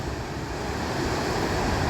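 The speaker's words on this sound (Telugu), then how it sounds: "గగనచుకి వాటర్ ఫాల్ అయితే అద్దిరిపోయింది బాస్" Gaganchukki waterfall in Karnataka pours down in a continuous, loud roaring wash of crashing water, broad and steady with no break.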